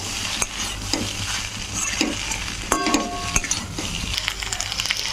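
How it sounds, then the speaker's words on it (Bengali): Spicy pasta is stirred and mixed in a sizzling pan, a spoon scraping and clinking against the metal over steady frying hiss, close and continuous. "এবারে সব একসঙ্গে ভালো করে মিশিয়ে নেব"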